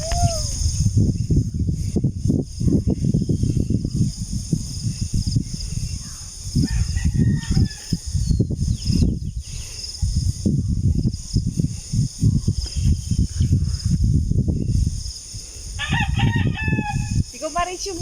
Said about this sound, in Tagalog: Oh, may manok!